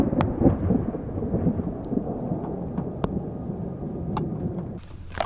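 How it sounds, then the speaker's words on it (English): A thunderstorm with heavy rain pours down steadily in a dense roar, with sharp thunder cracks breaking through at intervals, close and loud. "Oh man, it's really starting to pour."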